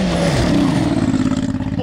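A Hellcat Demon engine swapped into a side-by-side roars loudly on a dirt track, climbing in pitch as it revs and shifts up, a close, continuous drone.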